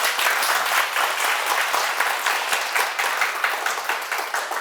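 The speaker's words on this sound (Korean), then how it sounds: "박수를 한번 쳐보세요." An audience at a Sunday lecture claps together in a thick, sustained burst of applause, loud and steady with slight rhythmic pulsing throughout.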